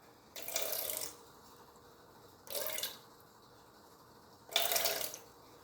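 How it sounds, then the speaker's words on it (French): Three separate bursts of water pouring into a measuring jug for bread machine bun dough, each running about half a second to a second, close and clear with quiet pauses between and no talking. "On commence par 160 ml d'eau."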